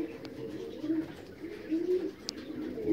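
Mozdok pigeons coo close by, with soft, low, rolling calls rising and falling in repeated swells, a few faint sharper clicks mixed in against a quiet background.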